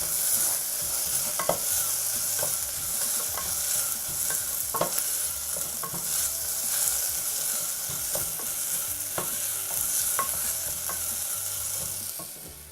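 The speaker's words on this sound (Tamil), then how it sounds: "இப்போ பச்சை மிளகாய் வந்து ஒரு 1 நிமிஷம் வதங்கட்டும்." Onions and green chilies sautéing in a pan for vegetable pulao, a steady loud sizzle throughout with regular scraping stirs of a spoon against the pan, close up and without speech.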